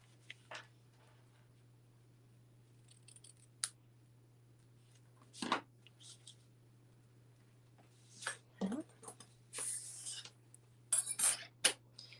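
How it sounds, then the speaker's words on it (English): Scissors trimming the frayed edges of a paper layer for a handmade card, producing a few sparse, crisp snips and clicks over a quiet background with a low steady hum. "then I will trim so that I don't have the frayed edges there"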